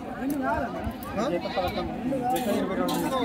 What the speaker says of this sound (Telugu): ఇవి వచ్చేసి అన్ని ఒట్టి మేకలే కదా